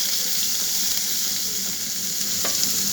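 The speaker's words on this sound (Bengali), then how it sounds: "আমি মশলাগুলো সামান্য একটু কষিয়ে নিব।" Spices with turmeric, salt, chopped onion and ginger-garlic paste sautéing in a pan, a dense, constant sizzle with a soft stir scrape near the end and no talking.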